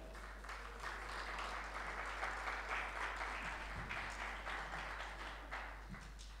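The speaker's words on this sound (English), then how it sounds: "Let's welcome them on stage with a huge round of applause." Audience at a literature festival session breaks into sustained applause to welcome two authors on stage, a dense, even wash of many hands clapping that holds steady throughout with no talk over it.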